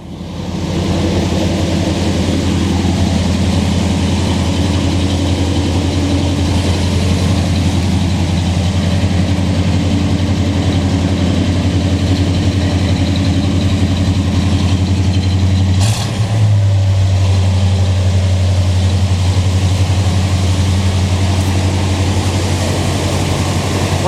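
A 1980 GMC van with a 350 engine idles after a cold start, a steady, close, low rumble that holds throughout with no one talking.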